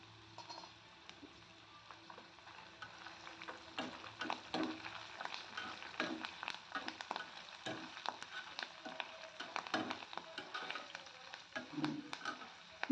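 Curry leaves fry in hot oil left over from crisp sweet corn, a quiet, close sizzle with scattered pops and crackles that grow busier after the first few seconds, no voices.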